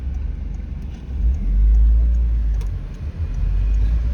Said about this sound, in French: Attention, il y a une voiture.